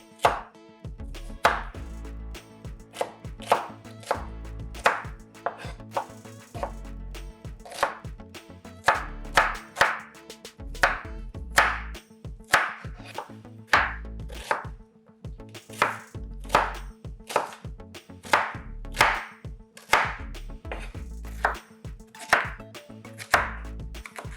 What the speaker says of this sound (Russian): Теперь мелко нарезаем лук, но сильно мелко тоже не мельчите.